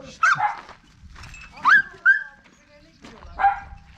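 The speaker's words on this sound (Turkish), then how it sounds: "Bal Balkıza hırlıyor" A dog growls and snarls at another dog in a garden, with short rough vocal bursts and a whine close by, while a voice scolds over it.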